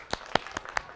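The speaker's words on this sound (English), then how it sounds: "Clap for yourself. Clap for Horizon TV. Clap for Najma. Clap for Ustada." A small group claps in a handful of sharp, evenly spaced claps, close and fairly quiet.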